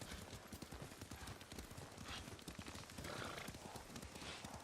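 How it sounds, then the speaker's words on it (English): Horse riding in the Ghost of Tsushima video game: rhythmic hoof clip-clops carry on steadily throughout at low level, with a horse neighing or snorting at moments. "Lord Sakai taught me to ride a horse."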